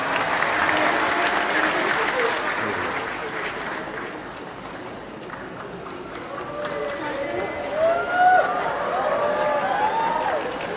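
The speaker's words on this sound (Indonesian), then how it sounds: "Boleh dong kasih tepuk tangan yang meriah buat Zia." An audience applauds a junior high school girl, a steady wash of crowd clapping for several seconds that softens midway, then voices rise over it toward the end.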